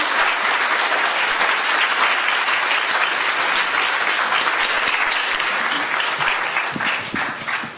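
Sustained audience applause for a panel at a Communist Party USA convention, dense and loud clapping filling the room evenly before tapering off at the end.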